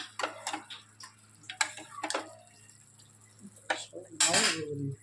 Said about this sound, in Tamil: Transfer this to a serving bowl.